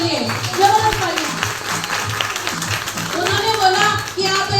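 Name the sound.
audience applause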